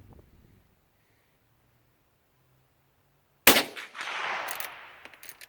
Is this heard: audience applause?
no